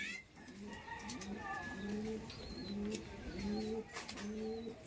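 Giribaz pigeons cooing nearby, a repeating series of low rolling coos with fainter bird calls and chirps in the background.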